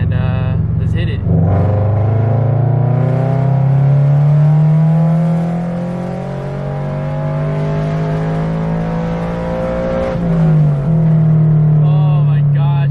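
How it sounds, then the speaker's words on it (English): 2022 Subaru BRZ with a UEL header and tune accelerating hard in third gear, a loud raspy engine note climbing steadily in pitch, then a brief dip at the shift before rising again. "Third gear pull."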